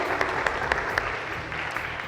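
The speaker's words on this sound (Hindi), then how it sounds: "दुआ के लिए भी बहुत सारी तालियां भाई।" A TV game show studio audience applauding steadily, dense clapping with a few sharper claps standing out, sustained throughout.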